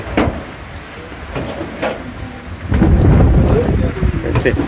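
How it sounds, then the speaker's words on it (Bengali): Rain pours steadily while a deep rumble of thunder rolls in and swells, loud and close, with scattered drips and splashes. "এই যে দেখো বৃষ্টি"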